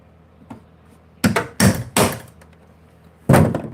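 Sharp metal chiseling on a boat fuel tank as rivets are cut out: a faint tap, then a cluster of three loud close strikes and one more hard hit after a pause, with no talk.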